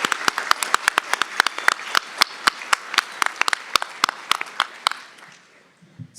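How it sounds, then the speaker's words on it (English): Applause at a spring commencement ceremony, a loud round of clapping with sharp distinct claps near the microphone that thins out and fades after about five seconds. "Let's give them all one more round of applause."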